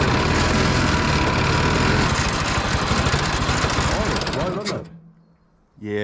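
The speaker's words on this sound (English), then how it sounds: "Trying to adjust the idle here." A small inboard engine in a mini jet boat idles steadily and loudly, a buzzing run that sags and cuts out near the end before briefly catching again, with no talk heard.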